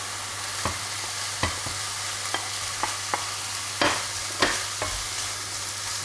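Gambas with thyme frying in a pan, a continuous close sizzle marked by sharp scrapes and clicks as the utensil moves them around, with a low hum underneath.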